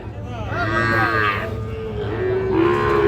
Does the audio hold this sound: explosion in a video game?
no